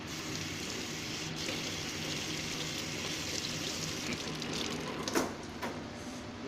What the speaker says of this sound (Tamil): செம்பருத்தி இலை இதை லைட்டாக வாஷ் பண்ணிக்கலாம்